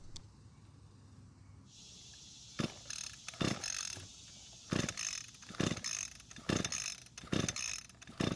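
Starter rope of an Echo string trimmer pulled repeatedly with a spark tester fitted inline on the plug, giving about six sharp ratcheting rasps at a steady rhythm, close and fairly loud, with the engine not catching.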